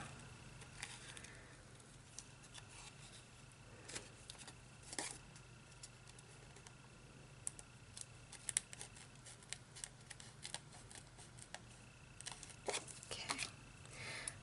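Scissors snip the excess off a paper strip while making a fringe heart craft, giving quiet, sparse crisp cuts and light rustles over a faint background hum, with no voices.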